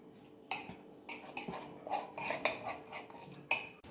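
A paneer tikka marinade being stirred with a teaspoon of oil, giving a string of soft clinks and scrapes of a spoon against a bowl at an uneven pace, close but quiet.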